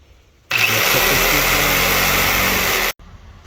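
A power saw rips through a wooden riser for a boat motor mount in one loud, continuous burst of about two and a half seconds, starting and stopping abruptly, with no talking.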